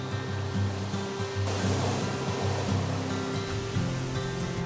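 Big waves breaking on a beach with an incoming tide on a sunny winter's day, a steady loud roar of surf and wash with a surge partway through, no voices.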